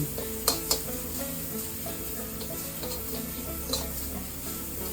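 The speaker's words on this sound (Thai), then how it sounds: "ตั้งไฟให้ฮ้อน เสร็จแล้วเฮาก็เอาไปคั่วเลยจ้า" Coarsely pounded ingredients for a beef and eggplant curry are dry-roasted in a hot pan, giving a close, continuous scraping stir and light crackling sizzle, broken by a few sharp knocks of the utensil against the pan.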